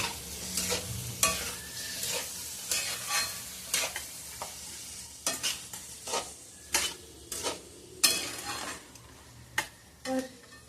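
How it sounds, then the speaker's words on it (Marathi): Ivy gourd (tondli) pieces being stirred in a pan, with a soft sizzle under repeated scraping strokes of the spoon coming every second or so, close and clear. "आता आपण त्यात भाजी तोंडलीची पूर्णपणे टाकून देणार आहोत आणि छान पैकी मिक्स करून घेऊया."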